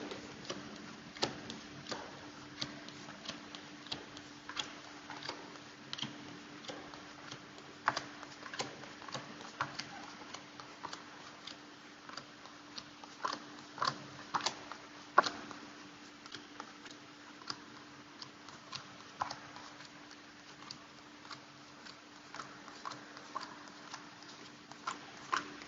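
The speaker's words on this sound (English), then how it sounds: "I'm just going to count my cards, get into them" Oracle cards from a Soul's Journey Lesson deck being counted and shuffled by hand: a long run of quiet, irregular ticks and soft card snaps, close and faint over a low steady hum, no talking.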